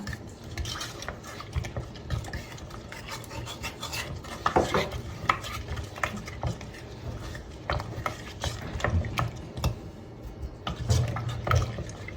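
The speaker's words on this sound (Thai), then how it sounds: "คนให้กะทิแตกเป็นน้ำนะคะ" A spoon stirs coconut milk in a pot, with soft scraping and sloshing and occasional light clinks against the metal, steady and close.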